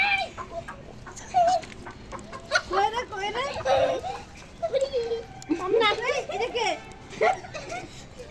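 Chickens cluck and squawk repeatedly at close range while people talk over them in a busy outdoor setting.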